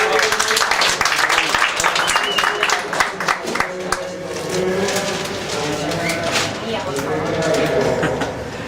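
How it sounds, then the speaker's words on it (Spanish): Short burst of audience applause for Luis at an expo talk, with scattered claps at the start that fade into murmuring voices and background chatter. "Un aplauso para Luis."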